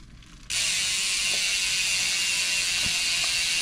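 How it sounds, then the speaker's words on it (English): A ratchet tightens bicycle crank bolts. After a quiet start it breaks into a loud, continuous rapid clicking whir, with a few sharper knocks as the handle works back and forth up close. "now we're gonna tighten up our cranks."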